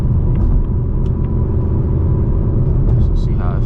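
A tuned S650 Ford Mustang GT rolls along on a test run, its engine giving a steady loud low rumble from inside the car as someone talks over it.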